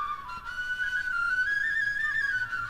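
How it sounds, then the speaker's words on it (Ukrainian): One long, steady whistled note that drifts slightly upward in pitch, sustained for a few seconds without pause. "Чи добре я свищу? питає Котигорошко."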